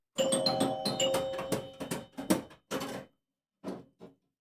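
Electromechanical chimes ring from a Joker Poker pinball machine, a quick run of bright ringing tones close up, tapering into a few separate dings before stopping.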